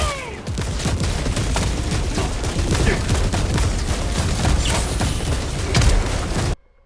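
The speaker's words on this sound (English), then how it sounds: "Firing orbital barrage, clear the area." The orbital barrage stratagem in the video game Helldivers 2 fires as a dense, loud run of overlapping explosive blasts and booms, rumbling continuously before cutting off abruptly near the end.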